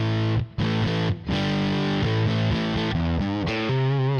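An electric guitar runs through a Tone Lab unit on its Priest preset, giving a heavily distorted, thick riff of chugging chords and sliding notes that plays loud and steady with brief choppy breaks and no talking.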